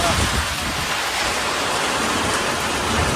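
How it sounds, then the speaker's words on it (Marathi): Heavy rain from a May storm pours down steadily, a dense, loud hiss of drops drumming on surfaces without pause. "खूप जोरात असा पाऊस पडत आहे"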